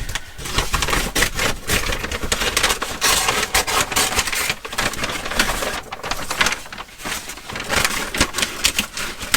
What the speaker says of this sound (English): So let's cut this bag out here.